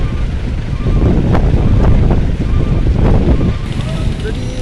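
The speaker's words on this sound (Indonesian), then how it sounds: "Anginnya masih tetap kenceng." Strong gusty wind buffets the microphone at a ferry pier at night, a steady loud rumbling roar with louder gusts, faint water and harbour noise underneath.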